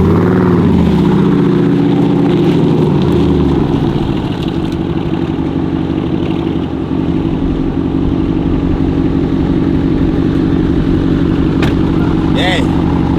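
An SRT Jeep's engine drones loudly and continuously while the vehicle spins and slides, with a thick steady roar and shifting revs throughout.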